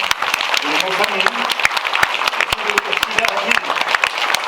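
A church congregation at a pastor's retirement service breaks into dense, continuous applause, loud and close, with faint voices mixed into the crowd.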